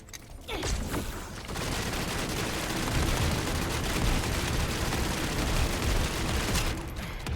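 Sustained rapid gunfire from a weapon in the video game The First Descendant, a dense continuous burst of shots running almost the whole time, loud and close, with no voices over it.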